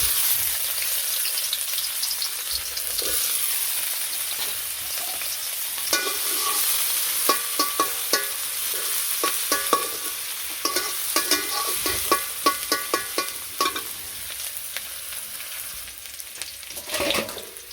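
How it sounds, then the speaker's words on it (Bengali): Malabar spinach fries in oil in a wok, a steady close sizzle with scattered clicks and scrapes of stirring, with no talk. "এরপর আবার কড়াইতে তেল দিয়ে দিলাম, পুঁই শাক ভাজি করবো"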